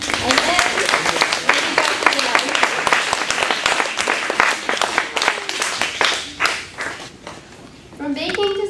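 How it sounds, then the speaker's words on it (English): Audience applause for a graduation speech, a dense steady wash of many hands clapping that carries on for several seconds before thinning out near the end as a voice returns. "I'd like to have applause for all these people."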